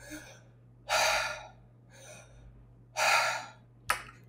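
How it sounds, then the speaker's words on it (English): Deep belly breaths drawn in and pushed out through the mouth, alternating strong loud inhalations and softer exhalations in a slow, steady rhythm, close and breathy, with a faint background hum. "So in and out through the mouth, not the nose."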